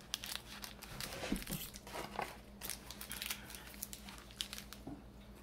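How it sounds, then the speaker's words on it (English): A crinkly snack packet is cut open, with close, quiet bursts of crackling plastic and small snipping sounds that come irregularly throughout. "I'm going to cut this little packet."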